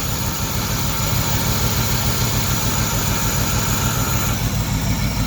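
An idling Foxbody car engine gives a steady, loud, close rumble that holds an even drone throughout, with no one speaking.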